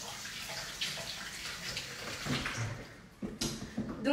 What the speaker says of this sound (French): on passe ses mains à l'eau pour éliminer le chocolat